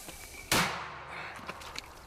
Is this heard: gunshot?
yes